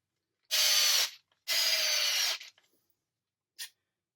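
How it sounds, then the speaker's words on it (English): A power driver turns screws into a Redcat Kaiju RC car in two sustained whirring bursts of about half a second and one second, close and loud, followed by a short final tap of the trigger. No one speaks. "Screw those down and in."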